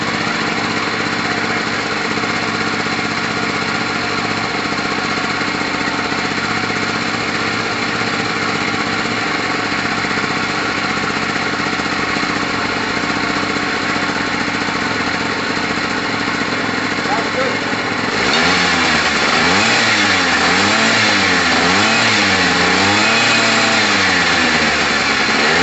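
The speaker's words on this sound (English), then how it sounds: "There's that two-stroke sound we're looking for." A 50cc two-stroke Pulse Force scooter engine buzzes and idles at length, then its raspy note rises and falls as the throttle is blipped; a voice talks over it.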